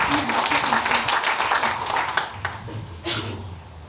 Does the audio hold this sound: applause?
yes